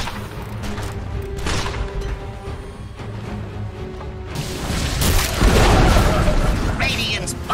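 A tower under attack in a Dota 2 match: booms, weapon bursts and impact crashes that swell louder in the second half, heavy and close, with game voices over the fighting.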